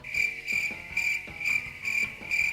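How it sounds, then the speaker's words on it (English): Cricket chirping sound effect, a regular pulsing high trill repeating about twice a second, clear and alone. "Here, you get the crickets."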